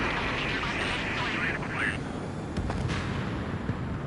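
A missile fires in the video game Ace Combat 7, a rushing whoosh layered over a continuous jet engine roar; radio voices talk over it.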